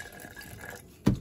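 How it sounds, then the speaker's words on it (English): Apple cider vinegar poured into a chick waterer already holding honey, a brief liquid splash and glug landing near the end, loud and close after quiet background. "I'm gonna add about 2 tablespoons of vinegar"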